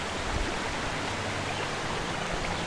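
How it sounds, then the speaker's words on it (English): Flowing water in Zora's Domain in Zelda: Twilight Princess gives off a steady, even rush like a stream or falls, constant and moderately loud with no other sounds. "sped up the flow too. This water should flow all the way down to the lake"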